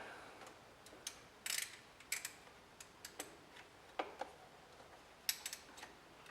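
Ratchet clicks rapidly while a thermostat housing bolt is tightened on a 2004–2009 Mazda 3 with the 2.3L engine, quiet, close and irregular, with brief pauses between bursts.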